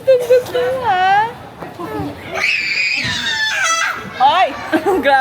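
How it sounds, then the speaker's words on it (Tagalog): Children scream loudly and shrilly at an indoor play centre in Megamall, with long piercing cries rising over excited children's chatter and playground hubbub nearby. "Grabe naman yang sigaw."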